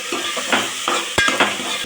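Onion and ginger sizzle in a hot pan for a Sankranthi natu kodi pulusu, with steady frying hiss broken by several scraping stirs of a spoon or spatula against the metal, close and fairly loud, no talking.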